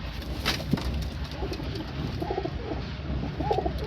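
Pigeons of the teddy breed coo at home, a steady run of low throaty coos close by with light rustling and no speech.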